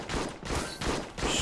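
Gunfire in the shooter game Creative Destruction comes as rapid bursts of shots, three or four loud volleys in quick succession and close up.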